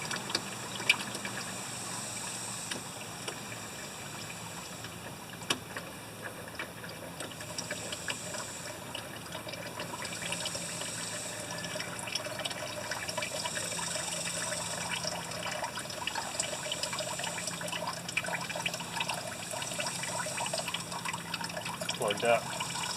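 Water draining from an old, rough tractor, a steady close trickle and splash of liquid running out under faint background noise.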